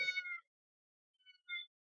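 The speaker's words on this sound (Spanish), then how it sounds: "Está plagada de gatos." A cat meows clearly once, then twice more after a pause, in short, close, high-pitched calls with silence between them.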